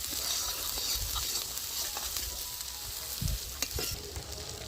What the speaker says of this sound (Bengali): বেশ কিছুক্ষণ নেড়ে নিতে হবে, যতক্ষণ না মশলাতে তেল ছাড়ছে।